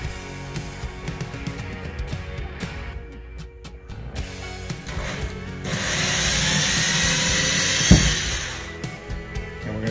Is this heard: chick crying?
no